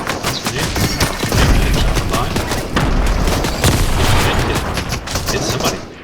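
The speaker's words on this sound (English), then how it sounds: "Grenades." Rapid bursts of gunfire and booming grenade blasts from a Fortnite match, dense and continuous across the whole stretch, loud and close, with a voice talking over the action.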